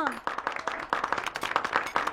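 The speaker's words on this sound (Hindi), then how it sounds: "बाबा के हाथों से बनाए गए खाने पर जोरदार तालियां" Several people clap for a home-cooked meal in a dramatized indoor family dinner scene, a short burst of uneven hand claps with voices mixed in.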